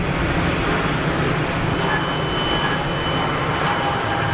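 An Airbus A220 jet roars as it takes off at Geneva Airport, a loud, steady engine rumble with a broad whine that holds at full strength throughout.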